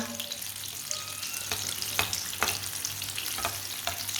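Besan batter fries in a little oil in a pan on a low flame, giving a steady close sizzle broken by a few sharp utensil clicks and taps.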